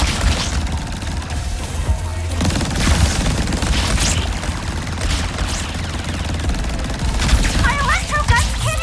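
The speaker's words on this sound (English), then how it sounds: "My electro guns can't even scratch them!" Electro guns fire continuously in Ratchet & Clank: Rift Apart, a dense crackling barrage that stays loud throughout, with a voice speaking briefly over the game noise.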